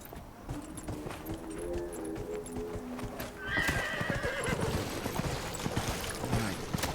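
Horse in the video game Dragon Age Inquisition, hooves clip-clopping at a steady gait and then breaking into a loud neigh partway through, close and clear with outdoor game ambience and no talking.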